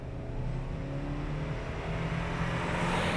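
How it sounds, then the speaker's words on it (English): A 2021 Subaru Crosstrek Sport with the 2.5 engine pulls hard at wide open throttle, a steady rising engine drone heard from inside the cabin that grows slightly louder over the run, with no talking. "Of course, I'm doing wide open throttle"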